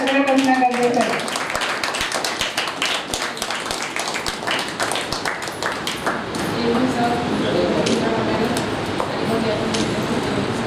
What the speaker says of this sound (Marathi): एवढ्या टाळ्यांचा कडकडाट असणं गरजेचं आहे